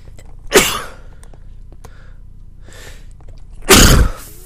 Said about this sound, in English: Piece of shit sneezing.